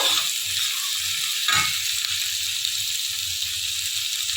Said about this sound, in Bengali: পেঁয়াজটা আমরা কিন্তু একটু ব্রাউন ব্রাউন করে ভেজে নেবো